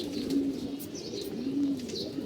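A restless racing pigeon in a loft coos in low, sustained rolls, two longer coos standing out over a constant murmur of other birds and light chirps.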